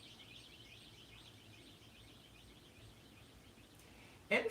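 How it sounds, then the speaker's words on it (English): Faint birds chirp in the distance with a steady twittering over low background noise, ending in a brief loud knock. "There's birds, I guess."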